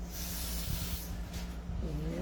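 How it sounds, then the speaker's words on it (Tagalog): Lubricating oil is sprayed into the open valve of a CZ Shadow 2 airsoft pistol, a close, steady hissing spray that keeps going throughout with a faint low hum underneath. "Pag open yung valve, inisprayan natin yung oil, papasok."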